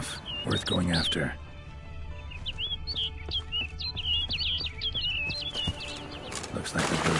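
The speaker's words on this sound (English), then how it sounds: "Looks like the bird's leading me somewhere." Birds chirp and tweet in a quick run of calls over game ambience in The Witcher 3, with a brief flutter of wings; voices speak at the start and end.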